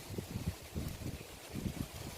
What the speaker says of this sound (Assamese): পুৰা বতাহ দি আছে মানে একদম আজি